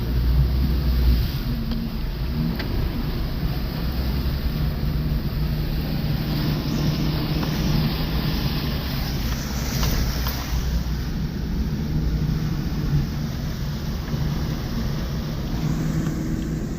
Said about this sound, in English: There's some water being pushed. Oh my God, this is deep.